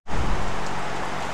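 Heavy rain begins abruptly and then pours steadily, a loud, even hiss of drops drumming on surfaces nearby with no voices.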